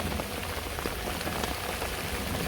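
Rain pours down near a village pond bank, a dense close wash of drops hitting ground and water, steady and unbroken for the whole stretch.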